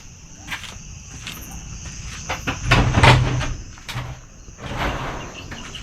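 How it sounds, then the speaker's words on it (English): A chicken coop door in a Kenyan village is shut with a few wooden scrapes and one louder knock, set against a constant chorus of night crickets. "Let me just close their door."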